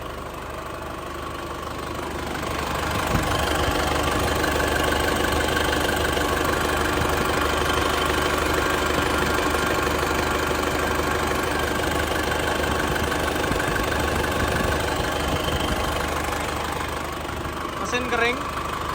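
A 2003 Isuzu Panther Touring automatic diesel idling with the hood open, a steady close rumble with a faint knock that runs unbroken for most of the clip, dipping slightly near the end.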